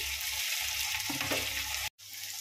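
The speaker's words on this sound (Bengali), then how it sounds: "আর আবারও ভালো করে একটু ভুনে নিচ্ছি।" Onion frying with ginger, garlic and green chilli paste for a curd and brinjal curry, a close, steady hiss and sizzle with a few soft stirring scrapes and a brief dropout near the end.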